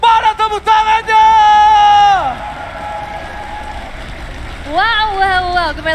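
An arena crowd at an MPL Season 11 esports match between RRQ and Alter Ego cheers and applauds as a broad wash of noise, with a loud, excited announcer voice shouting over it before and after.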